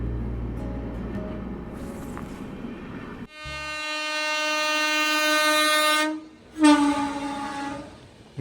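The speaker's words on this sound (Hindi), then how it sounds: "ये तो गोरखपुर अहमदाबाद एक्सप्रेस है" The Gorakhpur Ahmedabad Express rumbles past close by, sounding its horn in two long, loud blasts separated by a brief break, over a steady rolling rattle.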